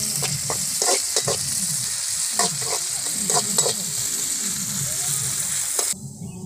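Onions and chillies frying and stirred in a pan, a steady close sizzle with repeated clinks and scrapes of a utensil against the pan, continuous until the final moment when it cuts off.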